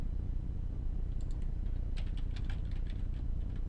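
Typing on a computer keyboard while entering a case name in software, with faint, light key taps in a short cluster over a steady background hiss, no talk.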